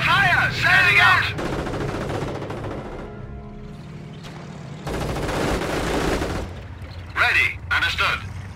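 Battle sounds from the World War II strategy game Company of Heroes: rapid gunfire and anti-aircraft bursts in loud, dense volleys, broken by quieter rumbling stretches and ending in sharp clusters of shots.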